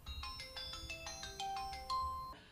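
A phone in Wuhan plays a melodic ringing tone while an outgoing call connects, a quick repeating series of bright electronic notes, close and clear with no talk over it.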